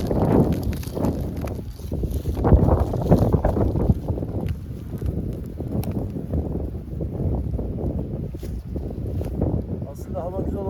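Strong wind buffets the microphone outdoors among beehives, a loud, continuous gusting rumble with someone speaking intermittently over it.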